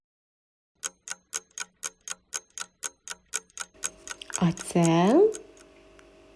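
A clock ticks steadily, about a dozen crisp even ticks, then a voice speaks briefly at the end.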